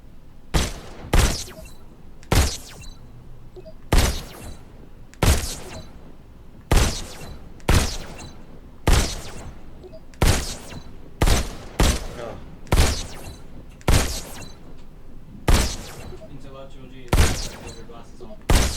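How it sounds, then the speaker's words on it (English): Pistol gunfire in a video game, single shots cracking out in an irregular rhythm of about fifteen loud, sharp reports, each with a short decaying tail, close and dominant. "Now you're armed. Just squeeze the trigger to shoot."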